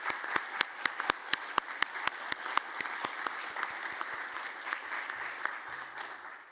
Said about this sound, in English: if we could just give the foundation one big last round of applause